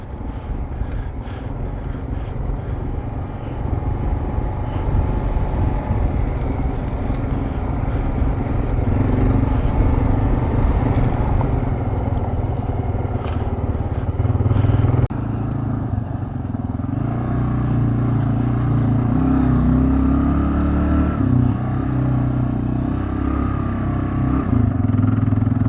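A Kawasaki KLR650 motorcycle climbs Change Gear Hill in Conondale National Park rainforest, its engine droning loud and steady with gear changes and shifting revs, wind buffeting the microphone throughout.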